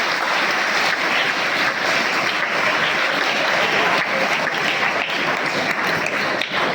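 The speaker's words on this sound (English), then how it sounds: "Give big applause to that." An audience at a Jawahar Navodaya Vidyalaya school panel inspection event gives big applause after classical and folk dance items, a loud, dense, continuous roar of clapping that holds steady for several seconds.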